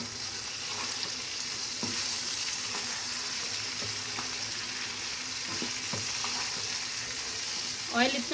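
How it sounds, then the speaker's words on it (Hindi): Okra (bhindi) and green chillies fry in a generous pool of oil, a steady close sizzle with a few scrapes of stirring and a brief clatter near the end, no voices. "ऑयल इतना डालना है इसके अंदर ताकि भिंडियाँ हमारी अच्छी तरह फ्राई हो जाएं।"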